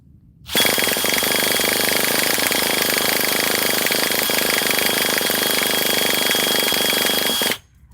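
An RC model engine with no air cleaner fires up, its throttle worked by hand, and gives a loud, harsh, continuous rattling roar that runs steadily for about seven seconds before cutting off abruptly.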